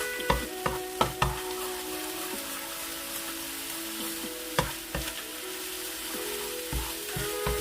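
Korean spicy chicken with ginger and garlic sizzles over low heat in a pan, a continuous close hiss with scattered clacks and scrapes from stirring.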